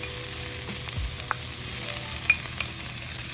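Garlic and onion frying in a pan while being stirred, a constant sizzle with scattered scraping knocks of the utensil and a faint tone, no talk.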